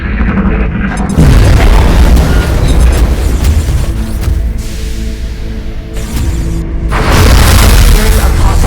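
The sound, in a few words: proximity mine explosion in XCOM Enemy Within video game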